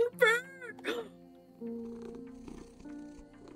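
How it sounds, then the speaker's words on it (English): A cat in the game Copycat gives a soft, low rumbling purr that runs quietly after a couple of brief high meow-like calls, heard close and faint. "Oh, we can purr!"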